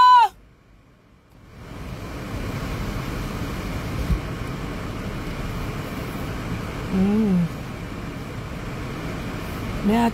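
Steady roadway traffic rumbles in the background of an afternoon street, continuous and moderately loud, with a brief louder swell partway through and occasional faint voices.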